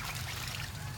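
Water trickles and gurgles steadily close by through a siphon hose, a continuous flowing, splashing sound with no voices.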